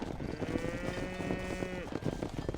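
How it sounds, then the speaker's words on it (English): Cattle in the Red Dead Redemption video game moo in long drawn-out calls over a busy ranch ambience, the lowing sustained for a couple of seconds amid other game sounds. "Все, ешьте коровки."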